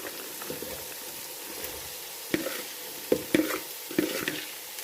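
Broccoli stalks sautéing with onion in a pan give a soft, steady sizzle, with a few sharper stirring clacks near the end.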